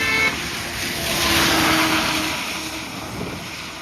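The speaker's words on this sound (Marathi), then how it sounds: "तुम्हाला गाड्या येतात, गाड्या येतात, गाड्या येतात" Vehicles pass along a damaged road with a large pothole and standing water, making a steady broad roar that swells as one goes by and then eases off, fairly loud and close.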